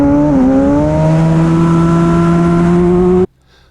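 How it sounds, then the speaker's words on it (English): A racing motorcycle at Jerez circuit accelerating hard out of a corner, its loud, close engine note climbing steadily in pitch before cutting off abruptly. "now it's up off the edge of the rear tyre, I accelerate as hard as I can"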